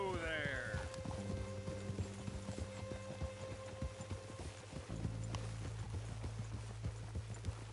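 Horse hooves clip-clop in Red Dead Redemption 2, a steady trotting patter close by with a brief whinny-like cry near the start and speech over the top.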